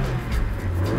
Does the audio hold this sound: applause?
no